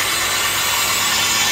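A plastic clip making machine for cages runs on PP material, driven by a 10 HP main motor and a 3 HP puller at normal speed, giving a steady, loud, dense mechanical whir and rattle throughout with no talking.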